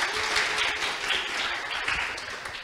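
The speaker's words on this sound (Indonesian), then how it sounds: "Boleh tepuk tangannya dulu teman-teman." An audience claps together in a dense, steady burst of applause, loud and sustained through the whole moment with no voices over it.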